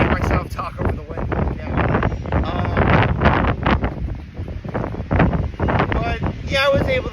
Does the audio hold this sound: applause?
no